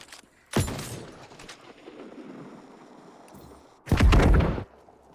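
Two loud, booming explosions in the New World MMO game, one early and one near the end, separated by a lower rumbling wash of sound.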